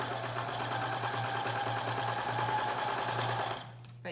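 A sewing machine stitches down a seam on a cloth mask with a filter pocket, a steady close mechanical hum and rapid needle chatter running for several seconds before stopping abruptly.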